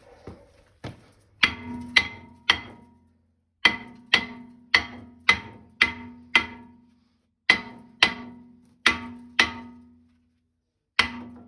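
A hammer taps repeatedly around a front brake rotor on an Audi A4/A5/Q5 to loosen it. Sharp, close metallic knocks come in irregular clusters of two to four, separated by short silent pauses, with no talking.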